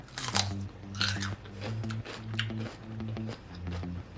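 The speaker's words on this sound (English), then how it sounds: "But wait, let's take another bite." Someone bites into a jalapeño stuffed with cream cheese, with a few crisp bites followed by close, wet chewing that goes on in a steady rhythm, with no talking.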